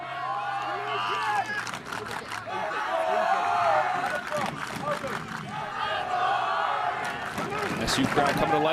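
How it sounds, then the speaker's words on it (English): Home fans at a Syracuse men's college soccer match against Louisville in the ACC roar and shout, a loud swelling stadium crowd with whistles and yelling, while a commentator talks over it. "SU crowd coming to life here."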